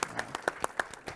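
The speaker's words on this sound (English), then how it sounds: "So I just want to give you guys a round of applause." A fast, even run of about eight claps from an audience at a business panel discussion, fairly quiet and brief, with no talk.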